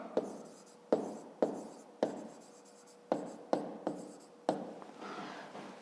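A pen scratches across paper in a series of short strokes, roughly eight distinct bursts each fading quickly, close and fairly quiet with pauses between them, while solving a 5th-grade maths exercise.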